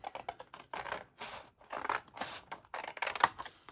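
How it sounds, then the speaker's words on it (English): Scissors cut paper for handmade journal pages in a series of close, crisp snips and rustles, each cut short with brief pauses between. "We just used good old scissors is what we did."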